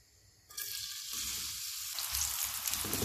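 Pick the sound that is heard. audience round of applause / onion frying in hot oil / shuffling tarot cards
onion frying in hot oil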